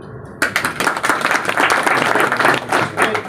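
A crowd claps at a Gurjar community gathering. The applause bursts in loudly after a brief pause and carries on densely and steadily, close and full.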